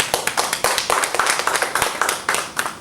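An audience claps steadily at a Sierra Leone economy event, with many hands producing a dense, rhythmic patter of applause that stays fairly loud and even throughout.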